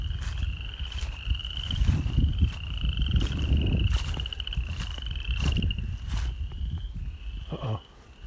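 Spring frogs near a cattle farm keep up a continuous high trilling chorus, repeated pulsing trills overlapping one another at moderate distance, with low rumbling background noise and occasional brief knocks.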